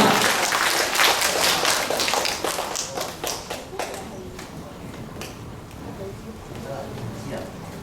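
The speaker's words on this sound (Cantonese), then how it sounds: "俾多次掌聲，阿金師傅，多謝晒" Scattered clapping from a small karaoke gathering, strongest in the opening seconds and quickly thinning to a few isolated claps, with voices beneath.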